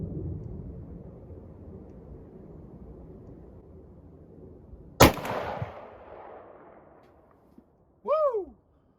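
A single heavy rifle shot from a Model 70 chambered in .458 Win Mag firing 500 grain bullets, a sharp loud crack over outdoor wind noise that rolls off into a fading echo. A short whoop follows a few seconds later.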